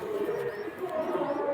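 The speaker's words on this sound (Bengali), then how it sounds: "এই যে লেজ পায়রা, বন্ধ লেজের পায়রা।" A pigeon gives a short, soft cooing call close by, a brief rolling burble that lasts under two seconds with no other sound.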